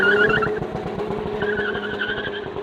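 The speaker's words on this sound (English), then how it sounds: "all it did was fry the tires" A Ford Focus ST launches with its tires spinning and squealing loudly over a strained, revving engine. The screech is continuous and close for a few seconds, with no talk.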